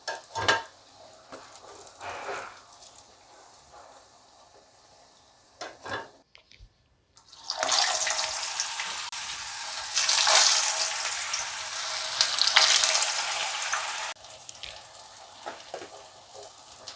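Aloo tikki potato patties frying in oil, with quiet scrapes and clatter of a pan at first, then a loud, dense, bright sizzle that swells and holds before dropping away near the end.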